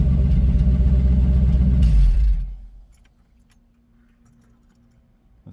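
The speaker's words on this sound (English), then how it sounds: "we're going to shut it off and try to start it and see what it does" A 1986 Ford Mustang GT Foxbody V8 runs with a loud, deep, close rumble for about two seconds, then the engine is shut off and goes quiet, leaving only faint background noise.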